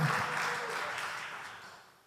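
A church congregation at a Sunday worship service claps in sustained applause that gradually fades out over two seconds.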